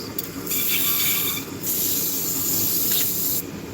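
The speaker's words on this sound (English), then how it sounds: "Now we're sanding it out." Hand sanding of a tapered workpiece gives a continuous rough, hissing scrape, with a few brief pauses where the strokes change direction, close and fairly loud.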